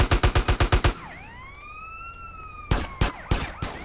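Police siren in GTA San Andreas, a mod pitting Grove Street against the Ballas: a rising and falling wail that sweeps up and down between bursts of sharp, rapid gunfire-like bangs before and after.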